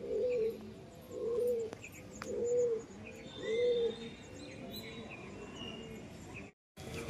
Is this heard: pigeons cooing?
yes